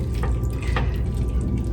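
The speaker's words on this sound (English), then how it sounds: "we're gonna add some water to this" Water poured into a pan of simmering taco meat with onions and jalapenos, a steady close splashing and gurgling pour with faint sizzle beneath.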